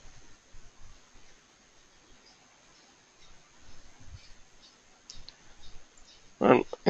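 Computer mouse clicks while a report schedule is set up on a computer, small and quiet against a low steady hiss, with a sharper cluster of clicks near the end.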